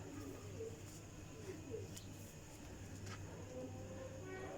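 Pigeons of a flying breed coo softly in the distance over steady background noise, with low murmuring calls and faint hum, no clear talk.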